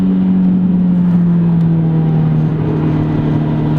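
A 2005 Volkswagen GTI pulls hard in second gear, its engine holding a loud, steady drone close to the microphone with a low hum that rises gradually throughout.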